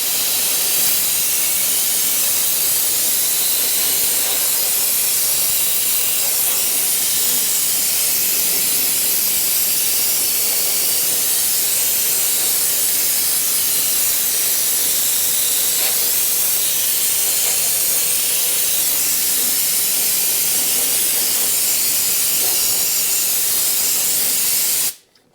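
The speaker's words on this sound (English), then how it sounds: "And we just get to spraying." Spray cleaner hissing steadily into the engine intake of a 2014 Arctic Cat Wildcat 1000X 4X side-by-side that runs rich, a continuous close, bright spray lasting about 25 seconds before cutting off abruptly.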